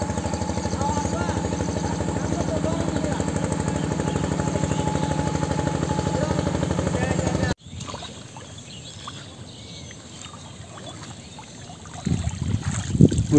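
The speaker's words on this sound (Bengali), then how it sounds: "এই যে যাত্রীবাহী ট্রলার যাইতেছে নদী দিয়া।" A motorized passenger trawler moves along a flooded village river, its engine giving a steady, fairly close putter for several seconds before cutting off sharply, leaving quieter water and outdoor ambience with a brief louder rustle near the end.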